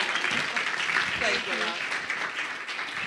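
Audience applause at a membership launch and women's empowerment award event, a steady wash of clapping running the full length with a brief voice rising over it midway.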